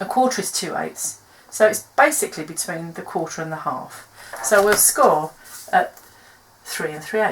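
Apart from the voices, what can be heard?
No everyday noise stands out behind the speech.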